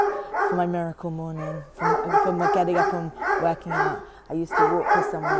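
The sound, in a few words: dog barking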